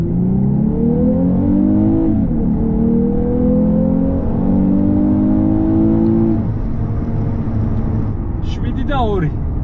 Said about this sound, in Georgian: ვნახოთ როგორ ჩქარდება ჩვენი 1C350